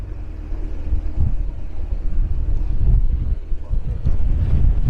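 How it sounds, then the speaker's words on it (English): Wind buffets the microphone in a continuous low rumble, swelling in gusts, with no one talking. "Oh, it's a bit windy here."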